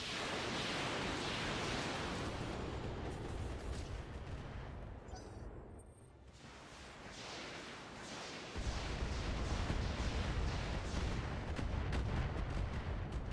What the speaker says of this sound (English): Those are medium-range missiles.